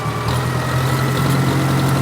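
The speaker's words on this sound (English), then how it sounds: "I'm going to increase the RPM up to about 1500 RPM" A tractor engine runs with its RPM raised to about 1500, a steady, loud, close mechanical drone with a firm low hum and no noticeable change in pitch.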